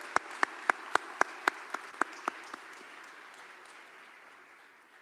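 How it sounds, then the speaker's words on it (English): A few sharp, evenly spaced claps ring out at a graduation ceremony, about ten in a row that soften and fade away into quiet room noise. "Round of applause for them."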